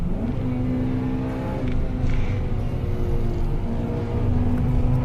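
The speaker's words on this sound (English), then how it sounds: "Bit of traffic." Race car engine on the Nürburgring Nordschleife droning and revving steadily, with passing traffic blended into the continuous loud, close engine roar.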